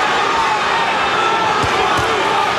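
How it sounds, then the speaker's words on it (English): A packed boxing arena crowd roars and chants for fighter Johnny Tapia, a dense, loud, continuous wall of voices with a couple of thumps. "Crowd chanting, Johnny, Johnny, Johnny."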